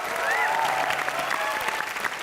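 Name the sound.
audience applause for a guest on a TV show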